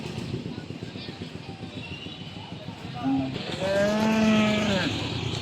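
At a pre-Eid cattle market in Joymontop, a cow lets out a loud, drawn-out moo nearby after a shorter low call, over a murmur of people talking in the background.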